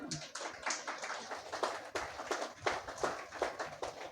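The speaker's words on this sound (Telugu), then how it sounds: "గట్టి చప్పట్లు కొడదాం" A church congregation at a Sunday worship service in Vikarabad claps loudly, a steady run of sharp, rhythmic hand claps with no talking over them.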